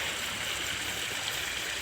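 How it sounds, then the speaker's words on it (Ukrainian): A small stream fed by mineral springs flows and burbles steadily and close by, a continuous rushing wash of water with no voices. "я думаю, що всі ці струмки із різних родників"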